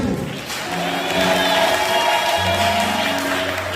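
A crowd claps steadily and continuously at a church youth camp gathering, a broad wash of applause with faint voices and a low hum underneath, dense and fairly loud throughout.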